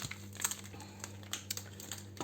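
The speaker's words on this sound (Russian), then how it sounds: "Всю кору я высыпаю в мою кастрюлю с водичкой." Dry, crinkly rustling with scattered crisp clicks as loose pharmacy oak bark pieces tumble into a pot of water, over a steady low hum.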